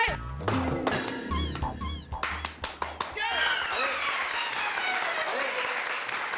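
Scattered clapping breaks out in a courtroom, sharp hand claps at first, then a broader ripple of applause that swells and lingers, with voices mixed in.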